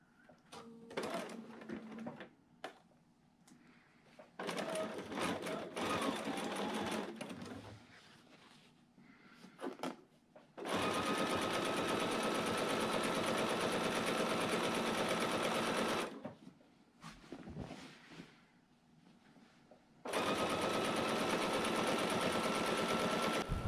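A sewing machine stitches the border of a quilt in loud, continuous bursts of rapid mechanical whirring, separated by quieter pauses with small handling clicks and rustles.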